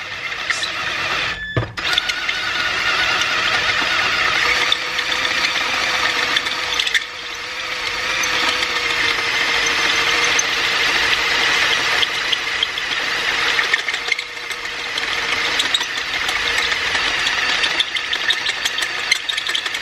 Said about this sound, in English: I'm just letting the drill bit do the work.